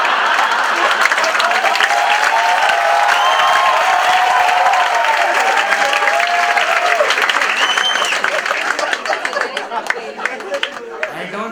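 A comedy show audience applauds loudly and continuously, with some cheering and crowd chatter mixed in, slowly thinning toward the end.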